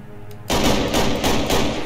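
After a short quiet moment, a custom AKM with heavy bullets in a Minecraft gun mod opens up in a loud, rapid full-auto burst of closely spaced shots that lasts to the end.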